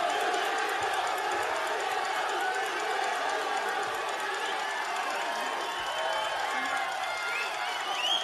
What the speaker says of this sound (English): We've got a very excited crowd here today.